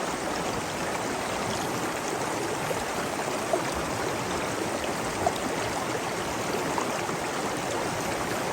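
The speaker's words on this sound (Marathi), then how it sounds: "फक्त पाण्याचा आवाज आणि पक्ष्यांचा आवाज बस" Monsoon stream flowing through Mulashi countryside near Pune, a steady broadband rush of water that stays even and fairly close, with no voices over it.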